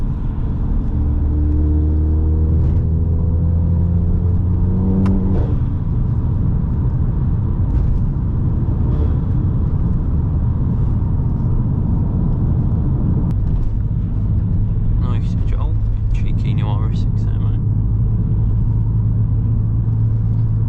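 A Volkswagen Scirocco drives on the road, heard from inside the cabin as a loud, steady engine drone with rumbling road noise, rising through gear changes early on and settling into a constant cruise.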